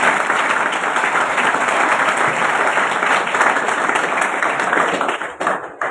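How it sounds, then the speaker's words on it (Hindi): A crowd applauds continuously with dense, steady clapping that holds at full strength for several seconds before starting to thin out at the end. "अब बजा सकते हो ताली आप।"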